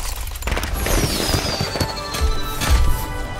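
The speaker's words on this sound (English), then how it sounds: "this has got to be one of my favorite executed loot boxes with the fireworks" Fireworks in an Overwatch loot box opening, video game: a rising whistle followed by rapid crackling pops and booming bursts, loud and continuous over a short melodic backdrop.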